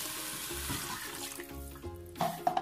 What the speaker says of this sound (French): Je rajoute un verre d'eau.